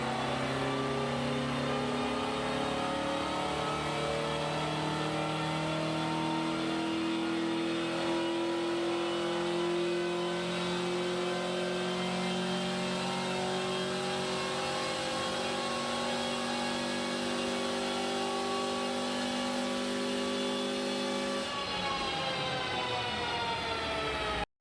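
A turbocharged 2005 Honda Accord (seventh generation) roars steadily on a dyno, its engine tone holding loud and sustained as revs build for about twenty seconds before shifting pitch near the end.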